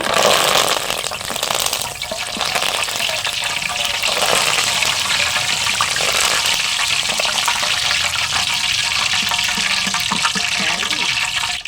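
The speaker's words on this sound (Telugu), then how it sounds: "కరివేపాకు కూడా ఇలా కచ్చపిచ్చగా వేయించుకోండి" Coarse curry leaves frying in hot oil after ginger, a loud steady sizzle and crackle close up, with occasional stirring, no speech.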